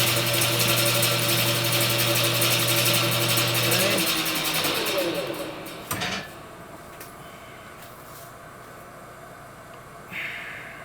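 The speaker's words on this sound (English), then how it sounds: "We're going to touch it with sandpaper on this side here." Sandpaper worked against a PK-80 crankshaft in a machine shop, with a loud machine drone at first that winds down, leaving quieter scraping and handling sounds and a brief knock.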